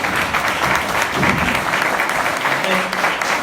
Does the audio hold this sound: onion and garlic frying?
no